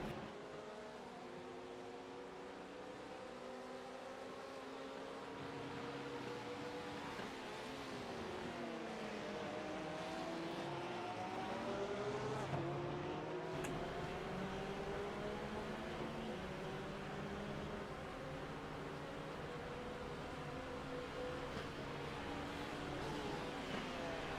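GT3 race cars racing at Motegi circuit, engines droning at a steady distance with rising and falling revs as cars jostle closely, faint and continuous.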